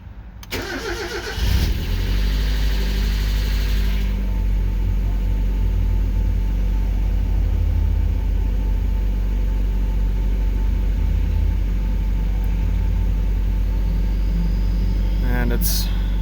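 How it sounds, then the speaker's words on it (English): A 1996 Mazda Miata engine turns over and catches on a cold start, then settles into a steady, fast idle with a low, even drone that holds close and constant throughout. "it's idling high, given it's a cold start, but it's idling very stable, nice and smooth."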